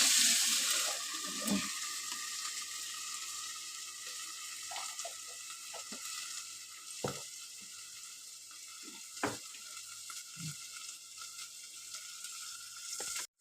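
Ginger paste fries in a pan for spinach sabji, giving a continuous crackling sizzle with occasional stirring clacks and scrapes throughout, fairly close and steady; no one speaks.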